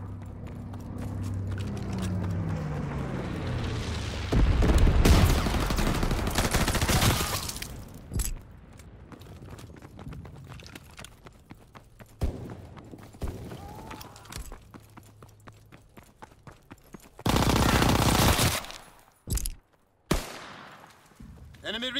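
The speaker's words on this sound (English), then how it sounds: "Dropping incendiary." Incendiary bombs from a low-altitude firebombing run in Call of Duty: WWII go off as two loud, broad blasts several seconds apart, with scattered gunfire cracks and a low engine drone in between.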